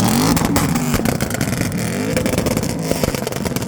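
A tuned 800 hp Audi RS7 with a twin-turbo V8 revs loudly and close up, its engine note rising and falling with rough, crackling pops and clatter throughout.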